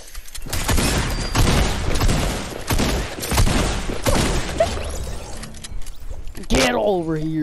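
A run of loud, closely spaced gunshots crack in Fortnite sniper fire, bursting repeatedly over several seconds before a voice cuts in near the end.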